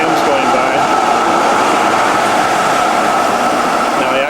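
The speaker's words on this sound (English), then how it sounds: "this is one of the trams going by." Tram passing along a Zurich street, a steady loud rumbling roar with a metallic ring, close by and unbroken throughout.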